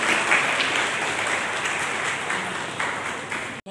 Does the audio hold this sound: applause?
yes